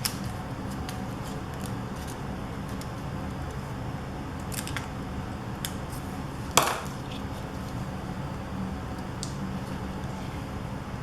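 Paper is cut with scissors for a scrapbook page, with a few faint snips and one sharper cut standing out against a quiet room hum.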